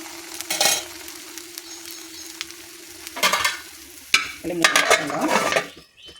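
Rice rava idli dosa batter fries in oil and gets turned, a bright sizzle rising in several loud bursts between quieter gaps, with scraping and stirring sounds close by.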